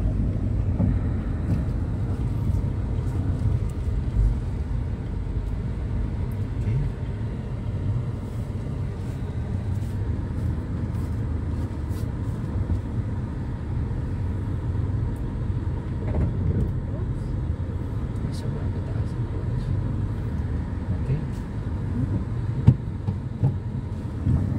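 A car drives along a course marked with cones as the clutch is let out, its engine and road noise a steady, close, low rumble that runs unbroken throughout.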